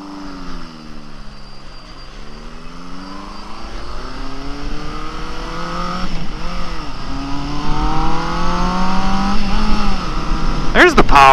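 A Honda CB750F cafe racer motorcycle accelerates, its engine note climbing steadily in pitch and growing louder through the gears with brief dips at shifts, heard from the rider's position with wind noise.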